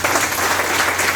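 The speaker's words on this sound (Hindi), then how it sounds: "हमारे जो रत्नेश सर हैं, जिनको एक बार जोरदार तालियां।" Loud, dense applause from an audience at a training session, steady clapping throughout the short burst with no voices over it.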